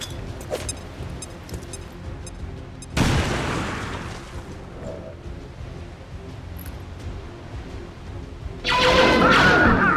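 A frag grenade detonates in the video game XCOM 2, with a sudden loud boom that decays into rumble, followed later by another heavy burst of blast noise.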